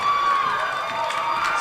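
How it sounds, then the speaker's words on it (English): Basketball crowd in a gym at a men's college game, a steady roar of cheering and shouting from many voices, loud and continuous throughout. "the crowd making some noise as you can feel the"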